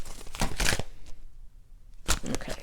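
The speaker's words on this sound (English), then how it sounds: "I'm gonna shuffle." Tarot cards being shuffled by hand, two short papery bursts of riffling and rustling separated by a pause of near silence, close and fairly quiet, with no talking.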